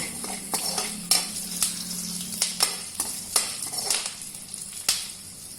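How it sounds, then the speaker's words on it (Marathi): Peanuts sizzle and crackle as they fry in a pan, a steady close hiss broken by frequent sharp pops and clicks of stirring, with no talk over it. "आता शेंगदाणे छान परतले गेले"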